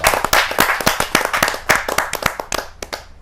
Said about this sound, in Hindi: मैं जोरदार तालियों के साथ बाल व्यास दिवाकर वेदांश जी का हार्दिक स्वागत